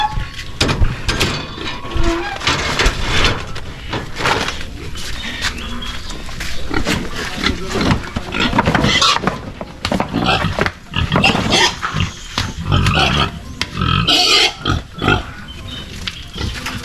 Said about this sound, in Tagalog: Bahay ng mga baboy.